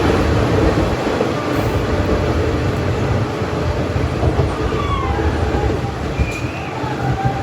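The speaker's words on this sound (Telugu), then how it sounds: "ఆ ట్రైన్ నాగుపాములాగా అలా తిరిగి వెళ్తుంటే" A train on the Rayagada to Koraput line rumbles past close by, loud and continuous, with rattling wheels and occasional faint squeals.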